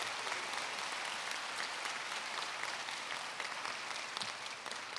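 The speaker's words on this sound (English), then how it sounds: "please, another round of applause for the staff members at Cal State LA" Steady, dense audience applause fills a university commencement ceremony hall, many hands clapping at a constant level throughout without pause.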